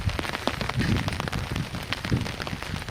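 Steady rain falls outdoors during a monsoon-season fishing outing, a dense, continuous patter with scattered louder drops and no voices.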